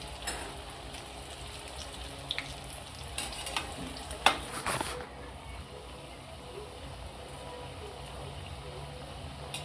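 Coriander fritters (kothimbir vadi) shallow-fry in a pan with a soft, steady sizzle and a few sharp crackles and turning scrapes early on, fairly quiet throughout.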